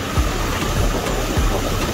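A motorcycle ridden along a road past tea plantations gives a loud, continuous engine drone with wind rush, close up and alone, with a few low pulses in the engine note.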